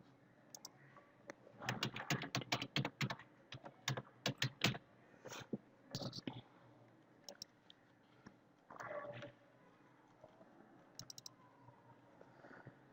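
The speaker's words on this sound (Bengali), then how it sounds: "You R request to enter your password again. ওকে, আবার চাচ্ছে কোনো একটা কারণে, আমি আবার দিচ্ছি।" Rapid bursts of computer keyboard keystrokes as a password is typed, clustered in quick runs with short pauses, close and clear in a quiet room.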